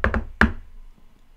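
Three knuckle knocks on a tabletop during a tabletop role-playing game session, two quick raps close together then a single heavier thud, close and dry with no talk over them.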